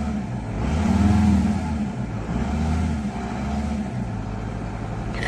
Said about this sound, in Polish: zobaczycie, jak z wnętrza już cicho ten motor chodzi